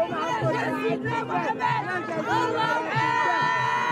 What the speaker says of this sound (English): This extremely festive crowd, people are celebrating